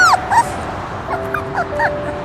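Small abandoned puppies whimpering and yipping, with high thin whines and short rising yelps repeating close by, loud against a low rumbling background and no speech.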